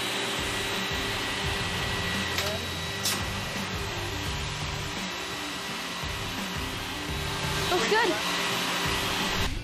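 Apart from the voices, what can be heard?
machine rollers running as a panel is pushed in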